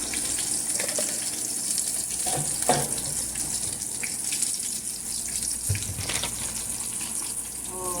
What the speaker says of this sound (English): So you just really want to fry your fish and have it brown on each side